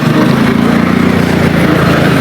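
A motorcycle engine runs steadily and loudly after a push start, a continuous close drone with no pauses.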